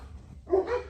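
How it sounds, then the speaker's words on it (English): A dog gives a short, sharp bark, close by and fairly faint, after a quiet moment. "stupid dogs."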